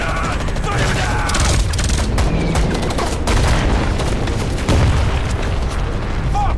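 A war-film battle in icy winter terrain roars with continuous loud gunfire and booming explosions, a dense chaotic barrage of rapid bursts and blasts, with shouting voices mixed into the din.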